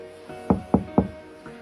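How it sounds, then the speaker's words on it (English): Three firm knocks on a door land in an even rhythm, followed after a pause by a fainter fourth tap, close by in a quiet room. "Every dead person has heard that terrible knock on the door."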